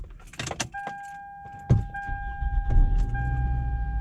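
A Toyota Camry with a newly replaced starter cranks and catches after some clicks and a chime, then its engine settles into a steady idle close to the microphone.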